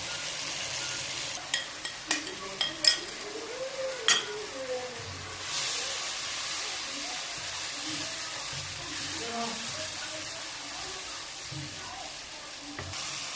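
Spice paste with onion and dry masalas being fried and stirred for Pakistani chickpea curry, a quiet steady sizzle with a few clinking utensil knocks early on.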